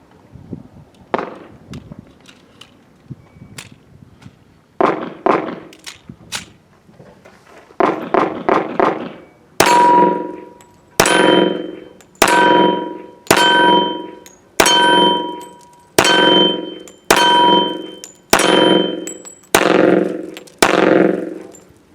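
Rapid string of .45 pistol shots from a Colt Competition 1911 ringing off steel targets, first scattered sharp cracks with metallic clangs, then a fast, evenly spaced volley of about nine loud, close shots each followed by a short decaying ring.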